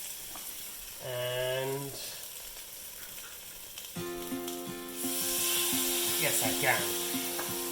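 Andhra chili fish fillets being laid into a hot pan, a sizzle that grows louder and denser as more pieces go in, with someone speaking briefly over it.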